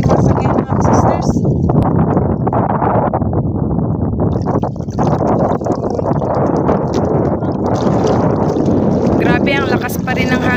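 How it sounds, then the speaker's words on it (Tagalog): Strong amihan monsoon wind buffets the microphone on a crab-hunting beach, a loud continuous roar with gusty surges throughout, and voices talk faintly underneath. "Grabe, ang lakas pa rin ng hanging amihan."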